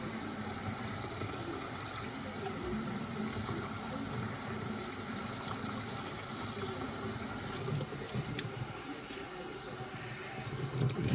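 Steady rush of running water rinsing out a goose skin for a flying taxidermy mount and draining away, continuous and close with occasional splashes and knocks near the end.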